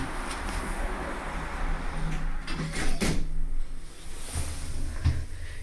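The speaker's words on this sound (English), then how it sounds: "Doors closing." Lift doors in a Sutton car park slide shut with a soft rumble, a few light knocks and a clunk as they meet, over a steady low machinery hum.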